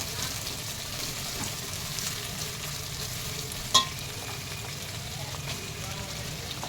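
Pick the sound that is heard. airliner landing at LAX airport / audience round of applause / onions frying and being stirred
onions frying and being stirred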